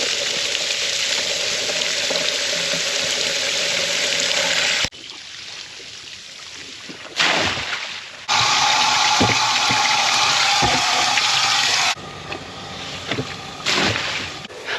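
Water rushes steadily into a tank, a broad hissing flow interrupted by abrupt cuts and changes in level, loud and close with no talk.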